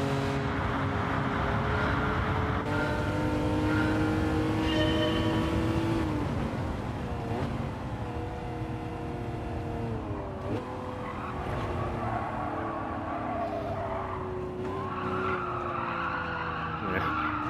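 Race car tires squealing and skidding under late, heavy braking in Gran Turismo 7, a long continuous screech over a loud, steady engine drone that shifts pitch as the car slides through the corner.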